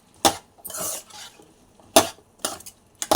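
Okra pieces being stirred in a pot for tomato okra pulusu: a spoon scrapes and knocks against the pot in several separate bursts, close and clear, with short pauses between strokes and no talking.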